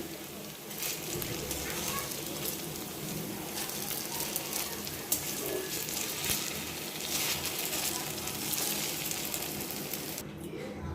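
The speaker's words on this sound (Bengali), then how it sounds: "পটলের বড়াগুলো আমি একটু সময় নিয়ে লাল লাল করে ভাজি করে নিয়েছি এখন তুলে নিব" Pointed gourd fritters fry in hot oil as they are lifted out, a steady broadband sizzle running evenly throughout with small clinks and bubbling.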